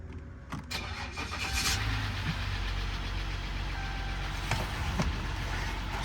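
A Dodge 1500 diesel truck engine cranks briefly with a few clicks, then catches and settles into a steady, fairly quiet low idle rumble with a faint whine, heard from nearby outdoors.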